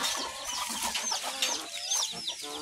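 Hens cluck in nests while laying eggs, with several overlapping birds making busy, continuous clucks and calls close by.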